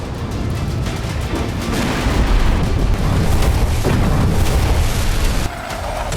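Sustained heavy rumbling and crackling blasts of an explosion and artillery bombardment in the Israel-Iran war, loud and dense throughout, briefly dropping near the end before resuming.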